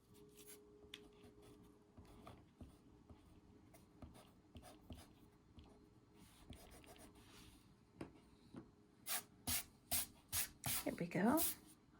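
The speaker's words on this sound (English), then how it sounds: "Okay, so now I'm going to erase these lines." Eraser rubbing out pencil lines on a drawing: after faint scratchy pen marks, a run of brisk, rhythmic rubbing strokes sounds close and clear, speeding into a quick scrubbing flurry at the end.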